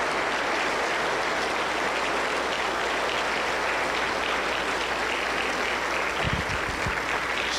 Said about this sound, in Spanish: Dale un aplauso al Creador.